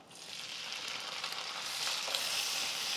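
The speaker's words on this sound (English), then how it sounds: "that's why it's sizzling so much" Steady, loud sizzling of thawed corn frying in hot bacon fat, a continuous crackling hiss that grows slightly stronger toward the end.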